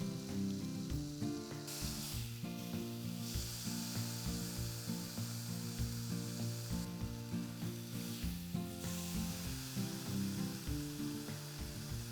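Steak fries in a pan with a loud, continuous sizzle and crackle, joined by occasional scraping and stirring noises from a utensil, and no voices.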